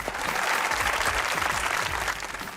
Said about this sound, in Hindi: बजाइए तालियां।